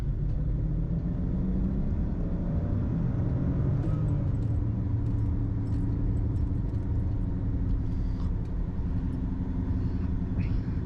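Loud tire roar from a 2010 BMW 535i on the move, a constant low rumble of road noise inside the cabin, with a few faint clicks and rattles scattered through it.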